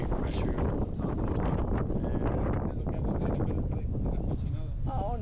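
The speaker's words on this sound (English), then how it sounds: "it is really windy" Strong wind at a house siding job roars and buffets the microphone continuously, a loud, dense rumble with a voice faintly mixed in beneath it.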